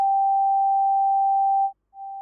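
A pure, steady oscillator tone from a Reaktor synth sounds alone, holding one clean pitch before a brief cut and a softer return.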